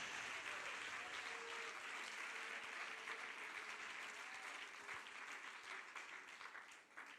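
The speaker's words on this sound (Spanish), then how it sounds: "Dele el aplauso a Jesús." A church congregation claps in steady, sustained applause that fills the room and fades slightly toward the end, fairly quiet overall.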